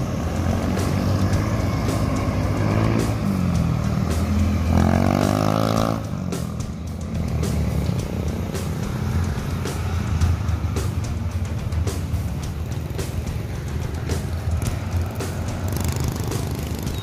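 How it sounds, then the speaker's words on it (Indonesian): Bus pulling out of Barai Solok terminal, a diesel engine rumbling close by with a rising whine around the middle before settling into a steady mid-level drone. "Ini bus yang keempat."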